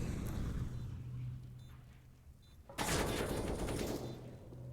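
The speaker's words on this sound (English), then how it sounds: "Just some stray bullets." Bursts of rapid automatic gunfire sound during a professional Counter-Strike: Global Offensive esports match, with a dense loud volley kicking in partway through over a steady game background.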